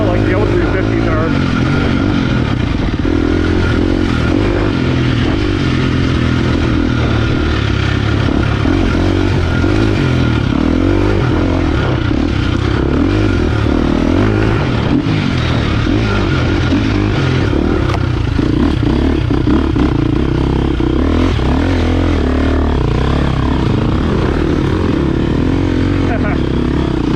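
A 2023 KTM 350XCF dirt bike engine chugging at low revs while ridden on desert single track and sand, a loud steady close drone with a rider talking over it throughout.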